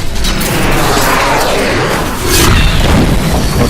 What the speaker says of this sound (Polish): takiego wybuchu można zginąć